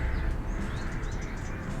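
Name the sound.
birds chirping, from the video game Snoot Game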